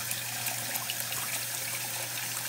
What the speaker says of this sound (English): I can drain out some of the hot water and just leave